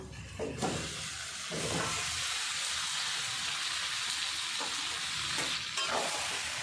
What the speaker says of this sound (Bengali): এবার আমি দিয়ে দেব ভেজে রাখা আলু